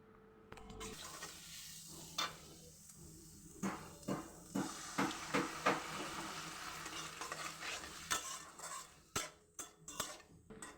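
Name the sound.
frying dried fish (shutki) with onion and spices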